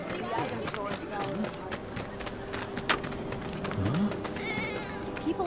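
A cat meows a few times in the Final Fantasy VII Remake game world, short faint cries amid background town chatter, footsteps and ambient game sounds.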